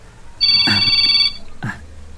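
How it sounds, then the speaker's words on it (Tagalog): A cellphone ringtone rings loudly with a bright electronic tone, one sustained burst followed by a shorter one, over a low background hum. "Ti cellphone ko."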